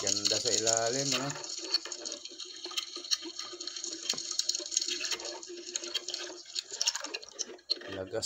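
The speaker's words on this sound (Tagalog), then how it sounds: "Lagaslas lang ng tubig madidinig mo." Water rushing and bubbling underwater while children dive at sea near a rock hole to set a fish trap, a steady broadband wash with scattered bubbly drips, preceded by a brief burst of low warbling.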